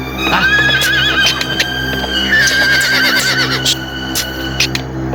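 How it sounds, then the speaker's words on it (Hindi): A horse neighs in a long, wavering whinny over steady hoof clip-clops, close and loud, with a busy background and no clear talk. "पता नहीं, घोड़ा आगे बढ़ता ही नहीं।"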